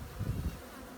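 Honeybees on a hive frame give a steady low buzz, loudest in the first half-second and then settling into a softer hum, close by with no talk.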